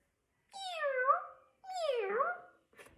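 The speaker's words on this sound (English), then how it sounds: "It's a cat." A cat gives two drawn-out meows with a falling, wavering pitch, clear and close, followed by a brief faint sound; no one speaks.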